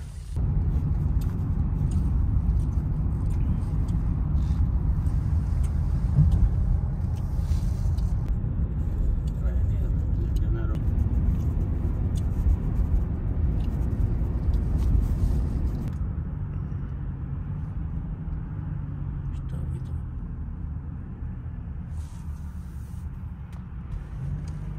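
A blue car pulls up in Germany, its engine a steady close rumble that eases slightly toward the end.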